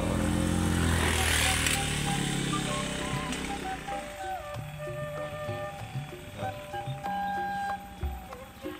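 Motorcycles in a groom's wedding procession grind up a sharp, steep hill, with engines droning loudly and strained throughout. A burst of wind-like roar comes early, then the revving steadies and rises and falls.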